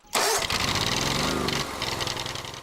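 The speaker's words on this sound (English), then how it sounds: "Armed with a zero-turn mower, a laptop, and a GPS receiver, Dave heads into the field, blind." A zero-turn mower engine cranks and fires up in a cornfield being cut into a maze, catching sharply then running loud and close at a rough, steady idle.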